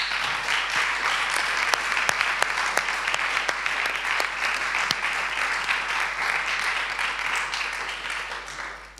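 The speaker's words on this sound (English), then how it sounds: "So I'd like you to applaud her again." An audience at a festival opening night in Berlin applauds steadily for about nine seconds, dense clapping with a few sharp individual claps standing out, fading slightly at the end.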